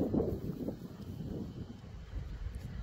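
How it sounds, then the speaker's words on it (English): Wind gusting at a UK beach makes a steady, low buffeting rumble against the microphone, fairly quiet and continuous, with no voices. "It's a bit windy today"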